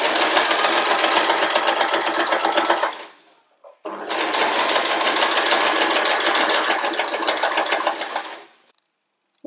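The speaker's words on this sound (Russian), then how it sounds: "Для удобства я заутюжила низ и теперь буду подшивать его на швейной машине." A sewing machine hems a cotton children's dress, running in two loud, steady, rapid stitching bursts of about three and five seconds with a short pause between them.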